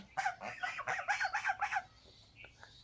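Grown domestic geese honk in a quick, close run of about eight loud calls, then trail off into a few quieter, scattered cackles.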